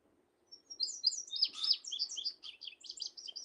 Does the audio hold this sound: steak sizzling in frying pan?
no